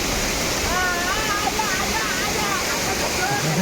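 The Savatkada waterfall in the Konkan region during monsoon season gives a dense, continuous roar of falling water, loud and unbroken throughout, with faint higher whistle-like tones drifting over it.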